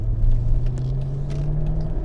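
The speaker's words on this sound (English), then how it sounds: "Now, I will say there is some tire noise with this vehicle." A 2004 Mercedes SL500 on staggered 255 front and 285 rear tires rolling along the road, giving a steady low tire rumble and road roar heard from inside the car.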